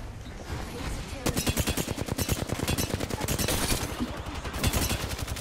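Rapid automatic gunfire from a video game, bursts of loud close shots in quick rhythmic succession lasting several seconds.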